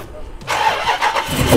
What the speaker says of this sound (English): Start the car, man!